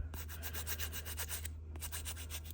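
Sandpaper rubs over a cast eco-resin balloon dog figure with a bubbly, flawed surface, producing a steady series of short, close scratchy strokes in a quick regular rhythm, with a brief pause partway through.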